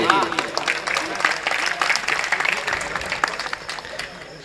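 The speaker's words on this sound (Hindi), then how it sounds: "यूं ही ताली ठोक दी" Seated audience of B.Ed students bursts into loud applause at a Hindi poetry or comedy gathering, a dense wash of clapping that is strongest at the start and thins out toward the end.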